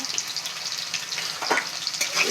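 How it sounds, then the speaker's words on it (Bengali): Cut potatoes fry in hot oil, a short, close, crackly sizzle with small bubbling pops and faint stirring. "এবার কেটে রাখা আলুগুলো ভেজে নেব ভালো করে"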